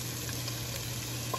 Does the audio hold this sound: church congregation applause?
no